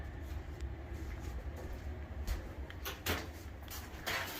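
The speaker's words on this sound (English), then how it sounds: "Now we're going to put it in the oven." A tray of almond yogurt coconut chocolate chip cookies slid into an oven preheated to 350, with a steady background rumble broken by several clattering metallic knocks and scrapes nearby.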